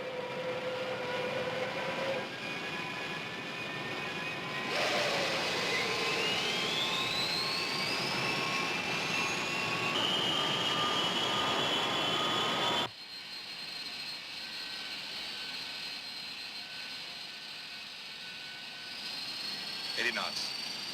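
Jet engines roar steadily during an airliner takeoff, with rising whines and a sudden drop in level partway through, while voices speak in the cockpit.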